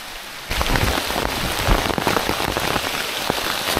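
Heavy tropical rain pours down steadily on Koh Samui, Thailand, a dense loud hiss with scattered drops hitting nearby surfaces, beginning abruptly after a quieter half second and continuing without talk.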